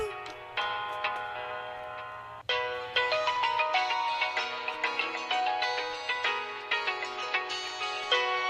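A phone ringtone plays a bright, repeating melodic pattern of quick tones, briefly pausing then resuming louder, with a faint low hum underneath.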